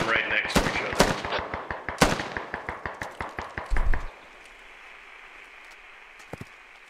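Rapid bursts of gunfire from a SquadOps video game firefight, a loud fast string of repeated shots for about four seconds, then a lull with a faint, distant single report.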